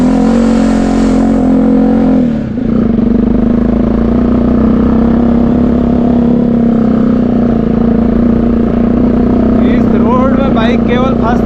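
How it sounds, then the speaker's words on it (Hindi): Motorcycle engine labouring steadily in first gear up a steep, narrow footpath-like mountain road near a village, a loud continuous drone with a brief dip, heard up close with speech over it. "बाइक केवल फर्स्ट गियर में चलती है।"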